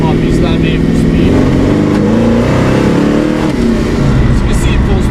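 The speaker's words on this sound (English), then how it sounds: "As you can see, it pulls pretty good for a truck." A replica truck with a small block Ford V8 stroked to 363 cubic inches accelerates hard, a loud rumbling engine note climbing in pitch close by, with a voice speaking over it.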